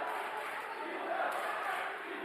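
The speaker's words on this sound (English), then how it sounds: "Chelmsford's crowd starting to get into it a little bit." Chelmsford supporters at a high school boys' basketball game against Tyngsboro cheer in a steady, fairly distant roar of crowd noise that swells slightly midway.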